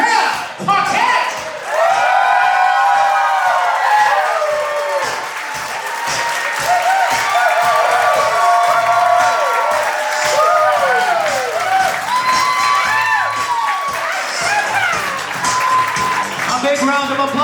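Wedding guests give sustained, close applause to welcome the bride's parents, a dense clapping that runs throughout with a brief dip partway. Voices and calls ring out over and through the clapping.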